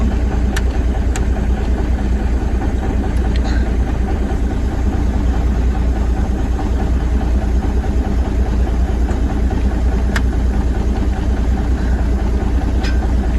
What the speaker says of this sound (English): I can hear the fan on.